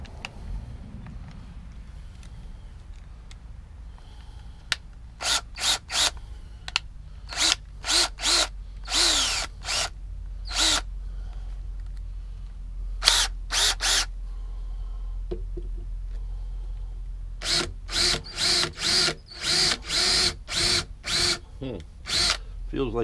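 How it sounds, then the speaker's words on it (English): A power drill whirs in repeated short bursts while drilling screw holes to remount ball brackets on cargo doors, starting and stopping many times, loud and close, with a low background hum between bursts. "I don't want to drill too deep because we want our screw to bite"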